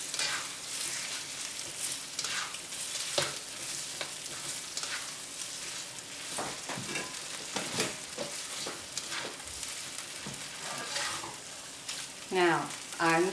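Shrimp and eggs frying in a pan with Pad Thai sauce, a steady close sizzle with scraping stirs and utensil clinks throughout, no talking.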